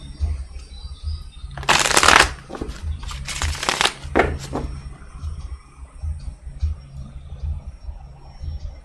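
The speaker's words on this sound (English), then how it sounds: "let me shuffle again" Tarot cards are shuffled in a few quick riffling bursts close by, with quieter handling and rustling in between.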